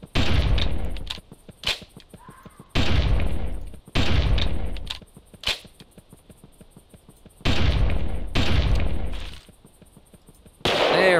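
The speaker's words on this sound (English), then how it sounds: "One pop off with the pistol to finish it off." Several sharp pistol shots in the Carnivores hunting game, fired in separate loud bursts with short gaps of quiet between them.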